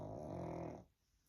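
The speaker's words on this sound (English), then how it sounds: "Pen's snoring away." A sleeping dog snores close by in a warm living room, giving one low, rumbling drawn-out breath that fades into near quiet.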